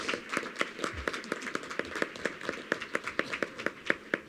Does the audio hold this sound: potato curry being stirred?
no